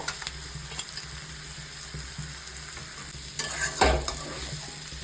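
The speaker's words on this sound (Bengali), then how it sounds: "এবার আমি মাছটা দিয়ে খুব ভালো করে কষিয়ে নেব।" Dried fish is stirred and fried in a spicy masala, giving a low steady sizzle with scraping stir strokes and one sharper clatter near the end.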